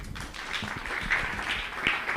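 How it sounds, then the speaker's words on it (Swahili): Applause for a pastor at a live youth seminar in a church, a short burst of crowd clapping that stays fairly even and moderately loud. "Mpigieni makofi"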